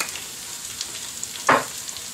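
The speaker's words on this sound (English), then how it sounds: "You'll probably start to hear it sizzle more." Seasoned potatoes frying in a pan give a soft, steady sizzle throughout, with one brief louder crackling burst partway through, close by and without talking.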